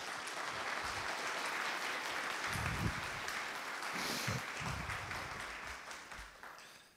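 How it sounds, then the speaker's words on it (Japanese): Audience applause welcoming a speaker onstage at a Japanese conference event on real-time visual effects, a steady dense wash of clapping across the room that holds evenly and tapers off at the end. "大きな拍手でお迎えください。"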